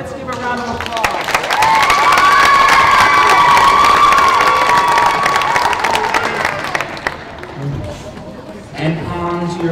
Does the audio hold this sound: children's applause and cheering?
yes